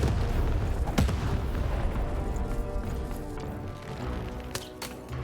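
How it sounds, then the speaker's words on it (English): A cannon fires in the video game Lost in Random, with a sharp booming blast and a couple of quick later impacts over a dense, continuous bed of rumbling game noise. "Shoot the button to fire the cannon"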